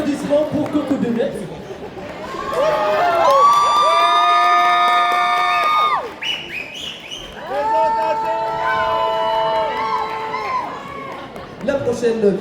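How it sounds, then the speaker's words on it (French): A convention crowd at a roleplay contest and awards ceremony cheers loudly in two long swells of high whoops and shouts, with clapping and chatter mixed in. "Un applaudissement pour Coco Bébé."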